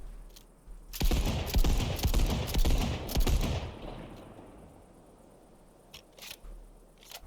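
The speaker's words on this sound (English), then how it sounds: "It's a bloody hand cannon." Hand cannon firing in a video game, a loud rapid burst of shots lasting a few seconds, then fading into quiet with a few faint isolated clicks.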